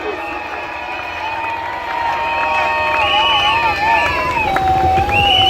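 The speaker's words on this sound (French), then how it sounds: "Pousse des cris de joie pour le Seigneur Jésus-Christ" A church congregation at an evangelistic campaign in Masina cheers and shouts with joy, with loud sustained crowd noise, high ululating cries and some clapping swelling steadily over the whole stretch.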